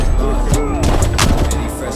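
Rapid hip-fire gunshots from an online match of Call of Duty: Black Ops Cold War on the Nuketown map ring out in loud, dense bursts that overlap with game noise.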